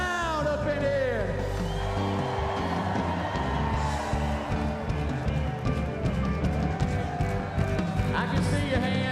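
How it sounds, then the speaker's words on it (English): A packed Republican National Convention arena in Milwaukee roars with loud screaming, whooping and cheering throughout, a dense sustained crowd din with voices shouting over it. "everybody is screaming really loud up in here"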